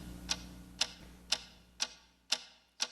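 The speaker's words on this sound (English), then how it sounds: "What is that mysterious ticking noise?" A mysterious ticking noise: six sharp, evenly spaced ticks about half a second apart, crisp and fairly close, over a low steady hum with no voices.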